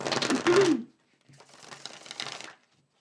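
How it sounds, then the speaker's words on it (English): Tarot cards being shuffled by hand, two dry papery bursts of riffling and rustling, close and fairly quiet, the first overlapping with a voice and the second alone. "Hold on, I gotta shuffle. Spirit says shuffle 3 times."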